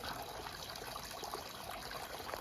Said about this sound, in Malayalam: വെള്ളം വീഴുന്നൊരു സൗണ്ട്.